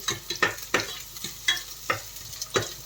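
Sliced onion sizzling in a frying pan, stirred in a steady rhythm of sharp scrapes about every half second over a constant hiss of frying.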